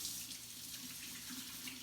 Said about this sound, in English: So you're gonna get warm water